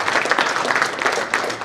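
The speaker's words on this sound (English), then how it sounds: "Big clap for them." An audience at an international conference applauds its presenters, a steady burst of many hands clapping close and continuous, with no clear talk over it.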